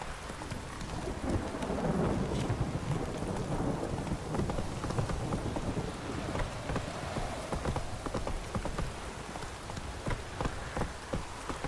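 Heavy, steady rainfall in the video game The Witcher 3 pours throughout, with a dense hiss and patter and faint horse hoofbeats underneath.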